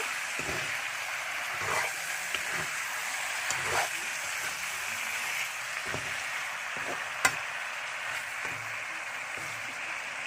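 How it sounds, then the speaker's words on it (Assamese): Assamese chicken curry fries in a pan, a constant hissing sizzle with regular scraping strokes of a spoon stirring through it. "অলপ দেৰি এনেকৈ লৰাই"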